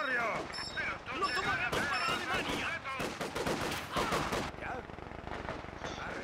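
Rapid machine-gun bursts in the wartime strategy game Company of Heroes 2, clattering in quick rattling volleys mixed with other gunfire and battle noise, while a voice talks over the shooting.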